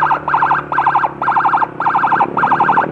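A loud, close emergency siren escorts an ambulance carrying a pregnant patient, its rapid warbling bursts repeating in a steady cycle with no talking.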